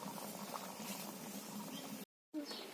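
Chicken curry bubbles and simmers quietly in a pot after hot water is poured in, a soft steady patter of boiling liquid, briefly cut to silence near the end.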